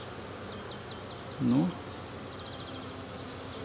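Carniolan honey bees fly around their hive, a faint, steady buzzing drone throughout, briefly covered by a single spoken word near the middle.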